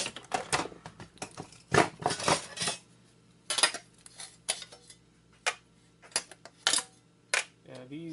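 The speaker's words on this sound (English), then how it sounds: "we have the aluminum heat sinks here, which we're going to rip off right" Aluminum heat sinks being pried and ripped off a PlayStation 3 during scrapping, a run of sharp metallic clanks, snaps and rattles in irregular bursts, close and fairly loud, with brief speech.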